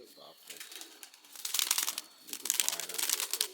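Madrasi pigeons shuffling and flapping nearby, soft rustling bursts that grow louder in two waves, with faint low cooing and quiet background voices.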